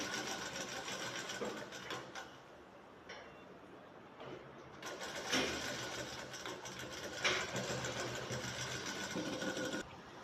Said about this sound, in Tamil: உள்ள விட்டு ஓரமாக தைக்கிறோம்